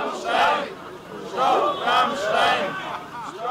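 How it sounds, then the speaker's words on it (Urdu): A crowd of protesters at a demonstration against US drone attacks chants slogans in loud rhythmic bursts, several voices shouting together in repeated waves with brief dips between phrases. "مظاہرین نے امریکن ڈرون حملوں کے خلاف شدید نعرے بازی کی"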